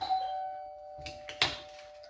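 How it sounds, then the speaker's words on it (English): A doorbell rings indoors during a sneaker midsole swap, its sustained electronic chime tone ringing clearly across the clip, joined near the end by a few soft knocks and handling sounds. "someone's just rang the doorbell"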